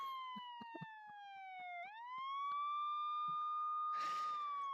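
A police siren wails in the Nancy Drew video game Secret of the Scarlet Hand, a continuous tone that dips and then rises again, with scattered faint clicks and a short burst of noise near the end.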